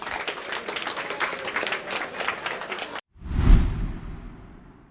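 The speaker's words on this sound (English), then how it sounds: "let's give our panel a huge round of applause" An audience claps for a panel at a startup event in Japan, a few seconds of steady applause that cuts off abruptly, followed by a short whooshing transition sound.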